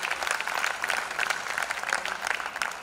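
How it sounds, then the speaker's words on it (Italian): An audience at a Siena song performance gives warm, sustained applause for the performers: many hands clapping evenly at moderate loudness with a faint crowd murmur underneath. "Meritano veramente un applauso"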